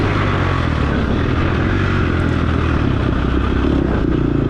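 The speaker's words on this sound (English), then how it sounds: "it does sound like the engine's lugging there" Loud, close dirt bike engine drone lugging at low revs in the wrong gear, a steady labored rumble with rattling and clatter that never rises in pitch.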